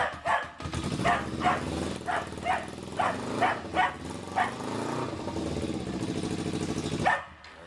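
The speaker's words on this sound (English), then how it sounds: "My dog will freak out here." A dog barks repeatedly, in a steady string of loud nearby woofs, while a Kawasaki Ninja 250's instrument panel is switched on, with a continuous low hum underneath before a sudden stop.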